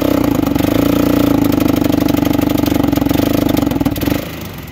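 A Polaris 500 ATV engine bogging and losing power runs loud and close with a steady, rough pulsing drone, then drops and fades near the end as it falters.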